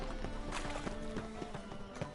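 Horse hooves clip-clop in The Witcher video game, a quick run of light, evenly spaced hoofbeats that stays close, with faint background game ambience.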